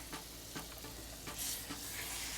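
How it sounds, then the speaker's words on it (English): Butter sizzling on a flat-top griddle beside a reverse-seared tomahawk steak, a brief quiet crackle with a few soft scraping taps and a brighter hiss near the end. "now I'm gonna lay some more butter down right here"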